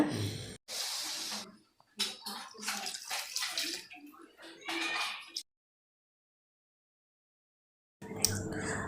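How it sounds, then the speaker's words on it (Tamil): Water is poured tumbler by tumbler into a pot of drumstick poricha kuzhambu, a run of splashing pours with brief gaps and a long pause before the last one, fairly close. "இந்த டம்ளர் அளவில் 3 டம்ளர் தண்ணி சேர்த்துக்கிறேங்க."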